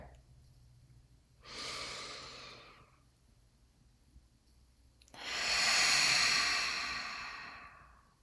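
A voice takes a slow deep breath during a guided calming session: a soft inhale is followed a few seconds later by a longer, louder, airy exhale, heard close and alone.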